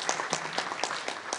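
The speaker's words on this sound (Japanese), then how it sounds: "今一度大きな拍手をお願いいたします" Audience applause at a lecture event in Kurosaki, a steady wash of many hands clapping at moderate volume, sustained for the whole moment with no voices.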